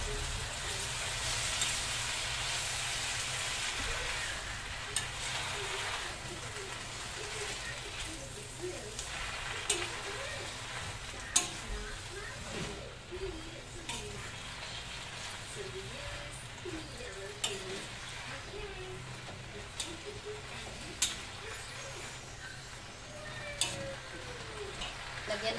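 Water spinach (kangkong) being stir-fried in a hot pan for adobong kangkong, giving a steady close sizzle and crackle with scattered spatula scrapes and light clicks across the whole stretch.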